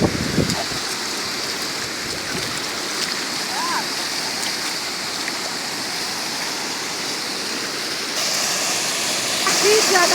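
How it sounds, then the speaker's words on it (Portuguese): Heavy rain and rushing runoff water pour in a broad, steady hiss that grows louder near the end, with a few splashes and a brief voice early on. "tá chovendo"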